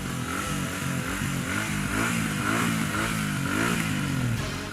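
A 2023 Royal Enfield Super Meteor 650 cruiser with a 650 twin engine and reworked exhaust system runs with a steady, throbbing, harmonic exhaust note that pulses slightly without pausing throughout, loud and close, with no talk.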